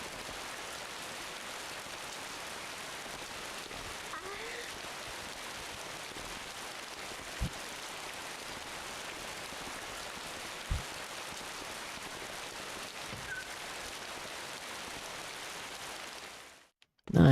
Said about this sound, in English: It's even raining inside the building.